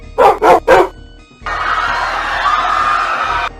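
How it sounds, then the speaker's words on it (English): The cartoon three-headed dog Cerberus lets out three quick, loud barks in a row, followed by a sustained crowd-like rumble and noise that holds for a couple of seconds. "The whole gang has arrived to save Scooby-Doo, but they also encounter a 3-headed dog known as Cerebus"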